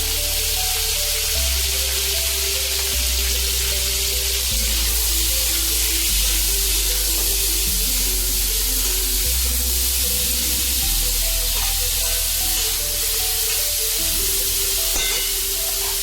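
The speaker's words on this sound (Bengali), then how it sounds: "দেখতেই পাচ্ছ সবজিটা আমার ভাজা হচ্ছে" Vegetables fry in a pan with a little salt while sweet khichuri is cooked, giving a steady, close, continuous sizzle that runs unbroken for the whole stretch with no voices over it.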